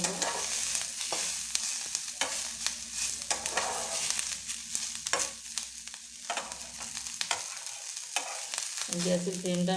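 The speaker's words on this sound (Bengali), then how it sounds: "আমি এটা ভাজা ভাজা করে নেব।" Bottle gourd peel frying with chopped chilli in a pan, a steady hiss of hot oil broken by frequent scraping stirs of a spatula, no speech.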